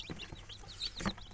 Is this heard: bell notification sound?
no